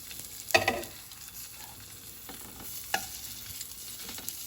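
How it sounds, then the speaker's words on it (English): Sausage browns in a big pot with a quiet background sizzle, broken by a sharp clatter near the start and a couple of lighter knocks later, fairly faint and with no speech. "As you can see, I'm getting a really nice brown on the sausage."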